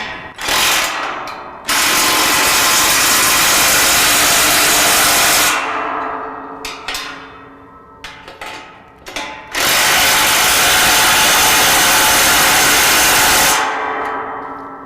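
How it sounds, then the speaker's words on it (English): A 19mm socket and wrench tightens two side bolts on a Go Industries Rancher grille guard fitted to a 2017 Ford F-250 Super Duty, giving loud, sustained bursts of rapid ratchet clicking with brief pauses between runs. "use a 19mm socket and wrench to tighten up the 2 bolts on the side"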